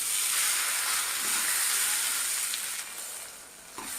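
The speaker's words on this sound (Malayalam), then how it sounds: "കരിവേപ്പിൻ്റെ ഇല ഇട്ട് കൊടുക്കുക. ഇതൊന്ന് മൂക്കട്ടെ." Steady, close sizzling of leaves frying in hot oil, a dense crackling hiss that carries on without pause and eases slightly near the end.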